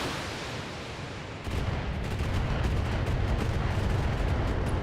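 Mech weapons open fire during a BattleTech video game battle: a dense, booming barrage that swells suddenly partway through and keeps rumbling loudly without pause.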